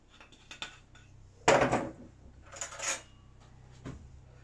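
Mushrooms laid onto an oven tray drizzled with olive oil, heard as a few close metallic clatters and scrapes of the tray, with quieter taps and handling noises between them.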